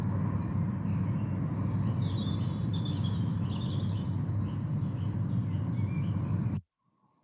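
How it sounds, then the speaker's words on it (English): Garden dawn chorus with blackbirds, robins, wrens, coal tits and great tits singing together, a busy overlapping layer of high chirps and phrases over low background hum, cutting abruptly to silence near the end. "There's blackbirds singing, as well as robins and wrens and coal tits and great tits and probably blue tits as well."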